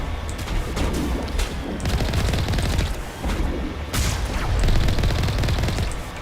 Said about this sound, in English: I would highly appreciate it if you stopped shooting at me.